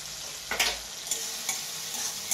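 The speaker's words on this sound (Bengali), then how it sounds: "এবার আমি ভাজবো।" A paste of ginger, garlic and cumin sizzles in a hot pan, with a steady frying hiss and several sharp stirring scrapes spaced through it.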